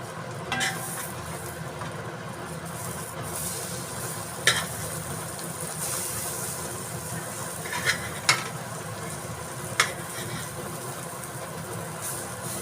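Pav bhaji ingredients frying in a pan, a continuous close hiss and sizzle with a few sharp clicks of a spatula scattered through it.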